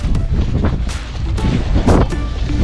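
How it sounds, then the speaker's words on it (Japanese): Strong mountain wind at Senjojiki Cirque on Mount Kisokoma buffets the microphone in loud, roaring gusts during a storm, rising and falling without pause. "さらに強くなりそうな風でも耐えれるようにしっかりとテントを張っていきます"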